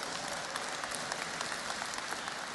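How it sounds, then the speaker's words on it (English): A seated audience at a seminar applauds a student named Thierry, producing a continuous, fairly quiet patter of many hands clapping at a distance, steady throughout without any speech. "So give Thierry a round of applause."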